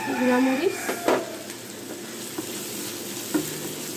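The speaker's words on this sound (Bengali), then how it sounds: "গুঁড়ামরিচ আদা রসুন দিয়ে একটু ভাজবেন।" Chicken frying in a pan with chili powder and ginger-garlic paste for an Eid-style chicken roast, a loud close sizzle with scraping stirs and utensil clinks, no speech.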